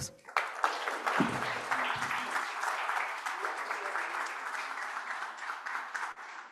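Moderate audience applause fills a hall at a public event in Mexico City, starting with a few scattered claps under a fading voice and settling into steady clapping.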